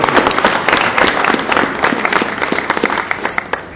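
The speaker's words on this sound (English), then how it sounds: "Let's give a round of applause to our Judge Elia Ernesto Lopez, please." A crowd applauding steadily, dense overlapping claps at an even, fairly loud level for a few seconds without a break.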